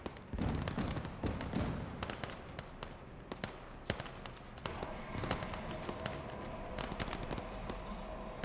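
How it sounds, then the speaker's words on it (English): Explosions and gunfire crackle through a Gates of Hell Ostfront battle on a frozen map, with grenades bursting among sharp, scattered reports, some close and loud, others distant, over a busy combat backdrop. "Caught an assault coming in. Throwing grenades."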